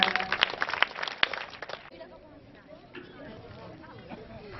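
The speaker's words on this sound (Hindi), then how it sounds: "जोरदार तालियों के साथ स्वागत, अभिनंदन।" An audience at a school annual function applauds to welcome guests, a dense burst of clapping that fades after a couple of seconds into quieter crowd murmur.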